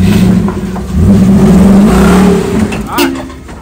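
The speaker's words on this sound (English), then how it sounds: "That's that V8, boy." A Toyota V8 off-road truck revs hard while crawling a rocky 4x4 trail in California. Loud, close engine surges rise and fall as people talk nearby.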